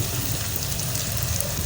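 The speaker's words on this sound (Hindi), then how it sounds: "अभी मीडियम फ्लेम पर भूनने का प्रोसेस शुरू है" Aloo arbi (potato and taro) curry frying over a medium flame while being gently stirred with a spoon; a steady, close sizzle runs continuously without pause.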